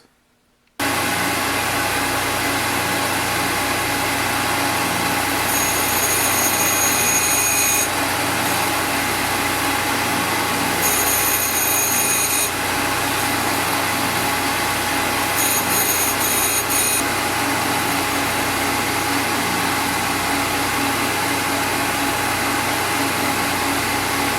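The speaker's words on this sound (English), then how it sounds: "I'm going to grind the top piece." Grinding the top piece of a squareness comparator on a grinder: a steady, loud, hissing whine that runs throughout, with a regular low thump repeating about once a second and no talking.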